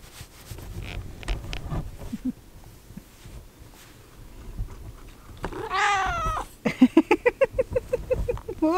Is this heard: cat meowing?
yes